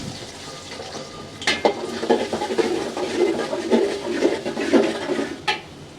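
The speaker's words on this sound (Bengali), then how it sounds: "এই যে পেঁয়াজটা আমার ভাজা ভাজা হয়ে গেছে" Sliced onions fry in hot oil in a pan for chicken curry, a soft crackle and sizzle broken by scraping and clinking of a spatula against the pan.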